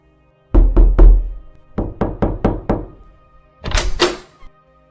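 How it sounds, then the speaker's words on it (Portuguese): A series of solid knocks on a bedroom door, in three quick bursts of raps, close and loud, with no talking. "Alguém bateu à porta do quarto e Navani mandou a pessoa entrar."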